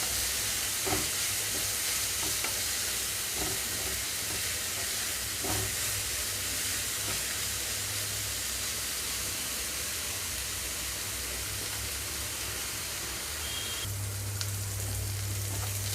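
Ridge gourd pieces sizzle steadily in a frying pan, a continuous hiss of frying with occasional soft stirring clinks, close and moderately loud with no talking.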